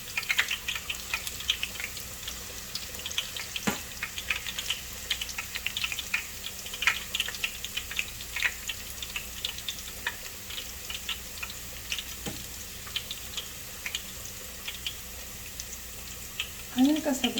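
Coin-shaped garlic slices browning in hot oil for a tempering, giving a steady soft crackle with scattered ticking pops throughout, fairly quiet and close.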